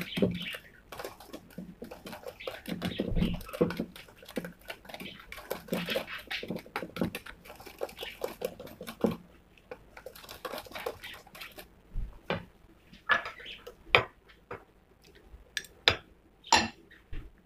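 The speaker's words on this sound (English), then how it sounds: "Okay, whisk it." Banana cake batter being whisked in a bowl, with a run of clinking and scraping strokes that turn into sharp, separate taps near the end.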